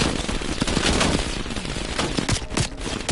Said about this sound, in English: dropped his gun when I shot him.